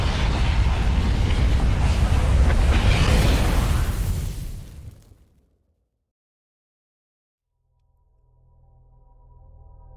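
A sun exploding in a video game: a loud, sustained roaring blast that swells over several seconds, then cuts off abruptly into near silence before a faint low hum returns.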